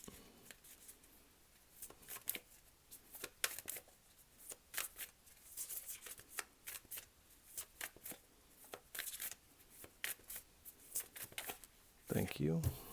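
Tarot cards are shuffled close by in quick bursts of riffling and slapping, with brief pauses between runs and a louder handling rustle at the end.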